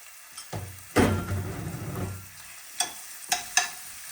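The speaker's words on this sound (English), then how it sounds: "This is about a quarter of a large onion. And we're going to saute this." A quarter of a large onion hitting a hot pan and sautéing for tomato sauce: a loud sizzle burst, then fainter frying with several sharp stirring scrapes, no talk.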